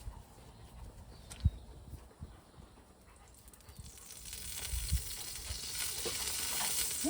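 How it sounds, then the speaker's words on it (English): An egg frying in a little oil on a Nexgrill griddle gives a faint, steady sizzle that swells louder toward the end, with a few soft clicks and bumps. "let's see how this egg cooks"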